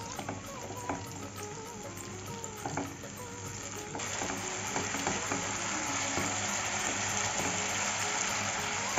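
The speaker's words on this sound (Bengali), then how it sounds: "এখন মশলাগুলিকে ভালো করে কষিয়ে নেব।" Spices for Bengali khichuri, with Kashmiri chili powder and a splash of spiced water, sizzle and fry in oil in a pan, a steady close crackle with occasional stirring scrapes.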